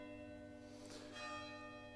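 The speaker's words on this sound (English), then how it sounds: "And there's the bell." A bell rings with a sustained, resonant tone, heard faintly at a distance with steady humming overtones and a soft strike in the middle.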